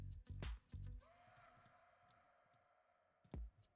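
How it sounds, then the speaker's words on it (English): Computer mouse clicks while playing Minecraft, a few loud close clicks at the start and another near the end, with quiet game ambience between. "I'm trying to do like fancy mouse clicks"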